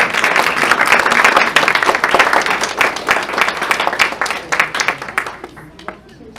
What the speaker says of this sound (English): Doesn't mean you shouldn't applaud